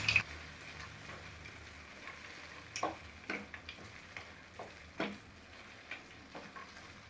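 Beetroot halwa with pistachios is stirred in a pan, giving soft, scattered scraping and clinking strokes at an irregular pace, faint and close, with no voices.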